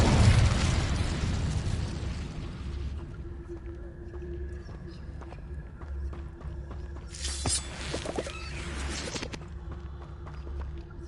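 A fire spell cast in the video game Hogwarts Legacy: a loud whooshing burst of flame at the start, fading into low rumbling game ambience, with a bright crackling flare a few seconds later.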